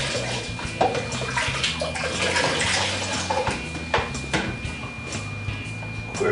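Water splashes and rinses over a long winemaking mixing spoon, a steady close running-water wash with a few clinks and bumps, alone with no talk.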